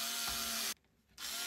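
Screws driven by a power drill into a massive pipe cap: a steady, close high whine of the driver running, cutting out for a brief gap, then resuming.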